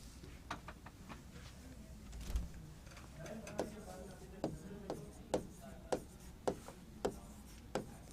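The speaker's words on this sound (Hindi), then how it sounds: "यहां पर इसका वर्णन लिखवा रहा हूं।" A description being written by hand: soft scratchy strokes and sharp little taps repeat at an irregular pace, faint and close.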